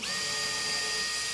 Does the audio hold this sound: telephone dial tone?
no